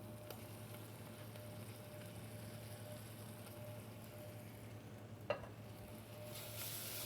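Onion frying in a pan with tomato paste just added, a soft, steady sizzle with faint stirring and one brief clink near the end.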